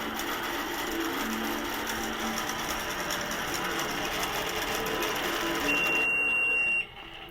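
An Innova quilting machine stitching with a steady, fast mechanical whir and rattle, then a thin electronic beep sounds before the motor abruptly stops after a thread break, leaving quieter hum.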